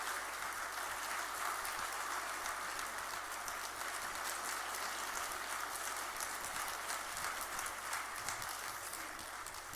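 A church congregation applauds in a sustained, even wash of clapping that carries on steadily for about ten seconds, fairly distant and without any voices over it.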